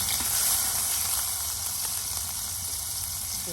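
Garlic and onion paste frying in a pan for a Bengali village dish: a steady close sizzle and hiss, fairly even and continuous, with no talking.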